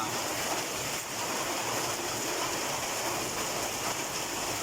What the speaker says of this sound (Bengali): এখন বৃষ্টি আরম্ভ হয়ে গেল